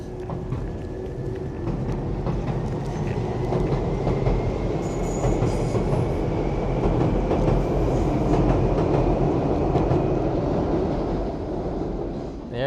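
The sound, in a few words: train going by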